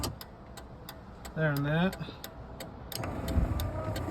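A Land Rover TD5 windscreen wiper motor runs on test, with a brief whirring sweep in the middle and faint mechanical ticking throughout, while a voice speaks briefly over it.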